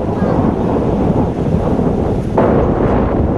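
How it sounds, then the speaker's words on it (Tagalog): Steady wind whistling across open blue water at Palimbang, Sultan Kudarat, Philippines, a constant broadband roar with a slight surge near the end, with no voices. "Sumisipol na hangin sa ibabaw ng bughaw na tubig"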